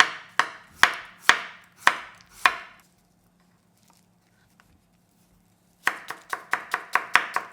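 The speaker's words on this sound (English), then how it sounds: "Slice thin matchsticks." A knife slicing a small zucchini into thin matchsticks on a cutting board, with a slow series of crisp chops, a quiet pause, then a quicker rapid run of cuts close by.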